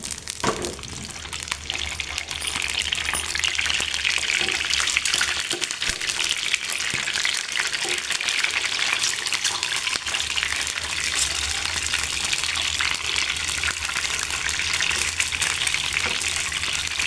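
Eggs frying in heated oil in a home kitchen for an Indian drumstick and raw mango egg curry, a steady close broadband sizzle running unbroken from start to finish with no talk.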